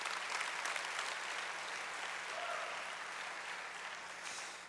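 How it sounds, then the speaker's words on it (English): Round of applause from school teachers, support staff and administrators at an opening-of-schools celebration, steady dense clapping from a large crowd sustained throughout and tapering slightly at the end. "Give yourselves a round of applause."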